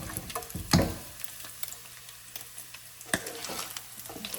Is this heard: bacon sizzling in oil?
yes